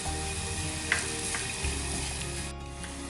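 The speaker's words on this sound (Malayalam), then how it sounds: "ഇത് ഇട്ട് കൊടുത്തിട്ട് നന്നായി വഴറ്റിയെടുക്കുക" Kashmiri chilli powder and coriander powder sauté in hot oil for a chicken tikka biryani, giving a steady close sizzle with light scraping of a spoon through the pan.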